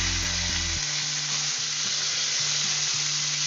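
Eggplant sizzling in oil in a pan with nigella seeds, salt and turmeric, giving a steady, close frying hiss with a low electrical hum underneath.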